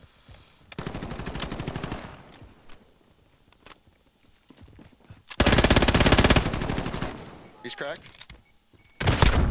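Rapid automatic gunfire bursts in Call of Duty: Modern Warfare (2019), loud close sustained volleys separated by quieter gaps with footsteps, while players talk over the action.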